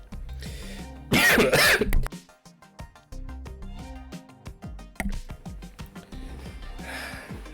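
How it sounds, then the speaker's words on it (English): Several harsh coughs and throat-clearing bursts come in quick succession, close and loud, with a strong coughing burst early on and more scattered ones after. "Still having these coughing fits."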